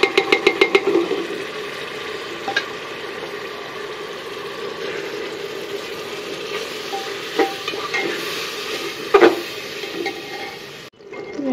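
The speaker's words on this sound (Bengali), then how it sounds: "তো আমার মশলাটা আমি কষাই নিতেছি।" Spices cooked down with a little water in a pan for a home-cooked meat dish: steady sizzling with repeated scraping and clinking strokes of a spoon, busiest at the start, close and alone.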